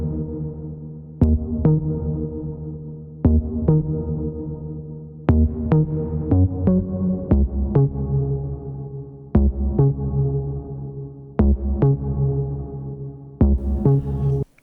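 A deep techno bass synth plays a repeating riff, with punchy low notes struck in rhythmic clusters and sustained between hits, loud and alone with no talking.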